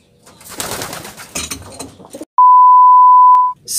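Racing pigeons coo and rustle up close for about two seconds, followed by a loud, steady electronic beep tone lasting about a second.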